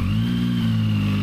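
A Zontes 703F motorcycle engine just started, running loud and close with a steady, even drone throughout the brief moment.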